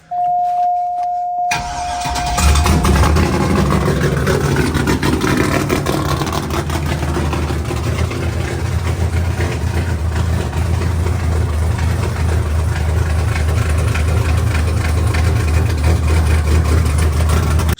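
A nitrous LS V8 in a Cadillac cranks and catches after a brief high tone, then settles into a loud, steady, deep idle that rumbles on alone without talk.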